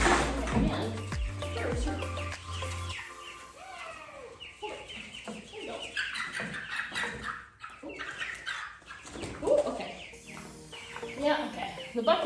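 Chickens cluck and squawk while being moved from a bucket, close by with bursts of flapping and scuffling, while people talk intermittently throughout.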